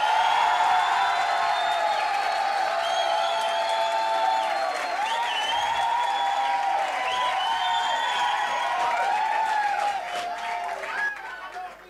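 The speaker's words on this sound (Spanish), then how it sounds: "Y aplausos para Cristian Flores." A crowd at a televised talent competition applauds and cheers a contestant, sustained dense clapping mixed with shouting and whistles for about twelve seconds before thinning out.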